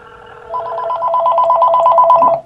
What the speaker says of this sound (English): So it's ringing now, right?